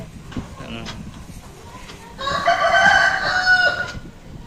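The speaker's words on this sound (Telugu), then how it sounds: "ఇక్కడ ఈ కళ్ళల్లో కూడా కోళ్ళు ఉన్నాయండి, చాలా మంచి కోళ్ళు." Chickens cluck softly at a distance, then a rooster lets out one full, fairly loud crow lasting over a second before quieter farmyard sounds return.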